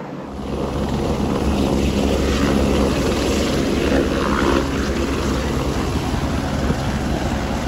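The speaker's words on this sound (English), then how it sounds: "I can hear the helicopter again." A helicopter's engine and rotor roar fills the air over a homestead in Portugal during a wildfire, loud and steady after a quick swell, with a whooshing quality suggesting it passes close overhead.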